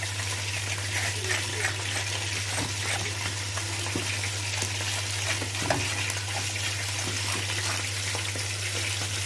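Crispy floured chicken fries in hot oil with a steady, dense sizzling hiss over a low constant hum, holding evenly from start to finish.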